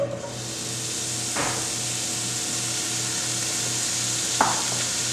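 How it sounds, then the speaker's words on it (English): Sausage browning in a few tablespoons of hot oil in a pot for jambalaya, a steady moderate sizzle with a couple of brief stirring or scraping knocks, no voices. "We want to put 2-3 tablespoons of oil in the pot, let it heat up a little bit. And the first thing we're going to do is brown our sausage."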